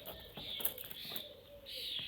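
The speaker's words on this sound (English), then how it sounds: "Birds are going crazy here." Birds call outdoors in short, high chirps and a cooing pigeon or dove note, moderately faint over a light background hiss, with no talk.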